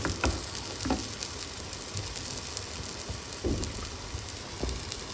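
Oil heats in a pan for a tomato omelette, giving a steady faint sizzling crackle with occasional soft pops, close and with no talk.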